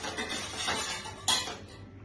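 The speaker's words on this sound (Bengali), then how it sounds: "ছানাটাকে চিনি দিয়ে ফেটিয়ে নিচ্ছি।" Chhana being beaten with sugar in a bowl for mango dahi, giving a steady close scraping and clinking of a utensil against the bowl, with one sharper clink near the end and no talking.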